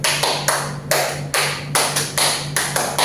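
A teacher's hands clap repeatedly in a classroom lesson, roughly a dozen sharp, close claps in a quick, slightly uneven rhythm with no talking.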